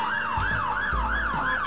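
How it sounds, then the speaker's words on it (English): A fire engine siren wails in rapid, regular up-and-down sweeps, loud and close, with a low rumble and a few thumps underneath. "Sirens on."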